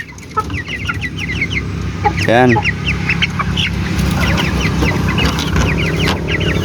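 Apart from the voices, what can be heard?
chicks and hens clucking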